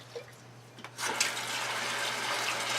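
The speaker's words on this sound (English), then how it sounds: "We're going to fill up some water in this" After a second of quiet clinks, water pours steadily into a carboy for an extract beer kit, a continuous splashing rush that holds even to the end.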